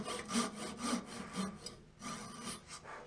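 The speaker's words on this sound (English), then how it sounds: "Brand new sharp blade on the Japanese pull saw is awesome." A Japanese pull saw with a brand new sharp blade cutting wood for custom newels, several rhythmic rasping strokes, close and fairly quiet, with a short pause between cuts and no talking.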